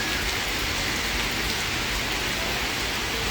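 Heavy rain pours steadily during a flood, a dense, loud, unbroken hiss that fills the whole moment with no voices.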